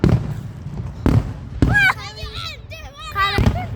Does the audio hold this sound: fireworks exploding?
yes